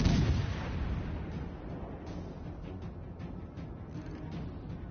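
Naval gunfire in World of Warships: Legends, a heavy boom at the start trailing into a dense, rumbling wash of distant artillery that rolls on steadily without pause.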